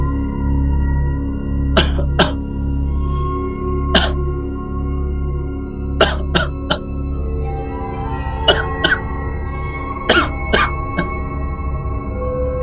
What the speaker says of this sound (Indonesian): ia terbangun oleh suara orang batuk yang berada di depan rumahnya